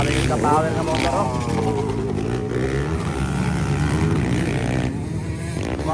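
Enduro race motorcycles revving during a local final heat at Poblacion Quezon, a continuous engine roar rising and falling in pitch beneath excited commentary.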